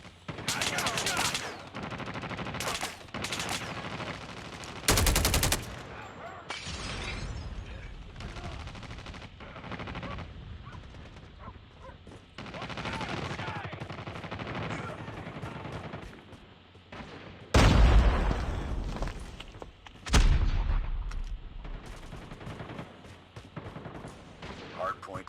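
Rapid bursts of automatic gunfire and single shots in a shooter video game, loud and repeated across the scene with occasional short pauses, mixed with game announcer voices and player talk.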